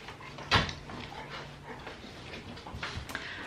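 A single short vocalization from a Rottweiler bursts out early, followed by quieter low growling rumbles and background noise during play, with no clear talking.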